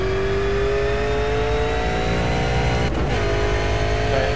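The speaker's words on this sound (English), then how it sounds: "Kereta ni kena guna throttle blipping dan engine braking." A Holden V8 Supercar engine in a racing video game at Mount Panorama, revving loudly and steadily with rising pitch, a brief dip near the end as if shifting, continuous and close with no talk.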